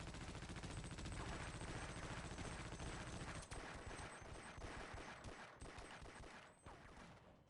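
Rapid gunfire in a retro first-person shooter video game, dense bursts of shots packed together and loud for the first half, then thinning into scattered separate blasts.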